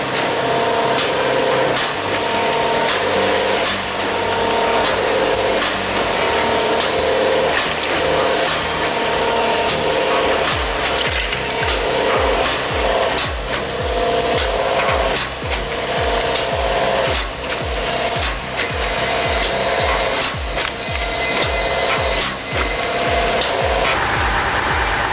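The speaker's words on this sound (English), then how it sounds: "This chip-splitting machine slices logs into perfect kindling with rapid, controlled force" A firewood processing machine slices logs into kindling with rapid, steady ratcheting clatter and grinding, loud and continuous throughout, with dense mechanical rhythm intensifying in the second half.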